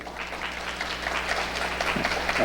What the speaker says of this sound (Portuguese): Uma salva de palmas para o Lei